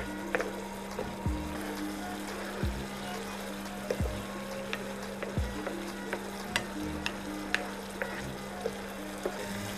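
Ingredients for an anchovy fish curry fry and sizzle steadily in a pan, browning under a constant hiss, with a spoon stirring and scraping in repeated sharp strokes throughout.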